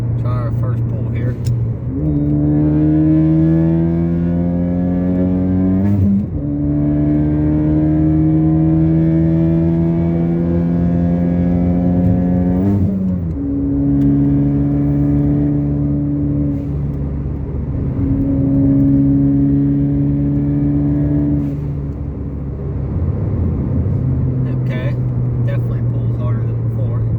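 Modified Ford ST accelerating hard through the gears during a test pull, engine note climbing loud and close with distinct drops at each shift, heard from inside the car.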